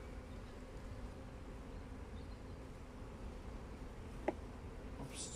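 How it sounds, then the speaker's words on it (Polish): Honeybees at an open hive hum in a steady, dense drone throughout, close and unbroken, with a brief tap near the end. "Pszczoły, jak tylko dmuchnę, słuchajcie"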